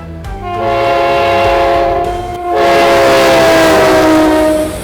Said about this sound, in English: Let's raise our middle fingers at the folks on the train, James.